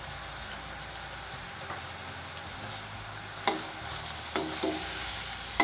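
Chili powder and salt being stirred into pav bhaji in a hot pan, a constant frying sizzle with a few sharp scraping clinks of the spoon near the end, no talk.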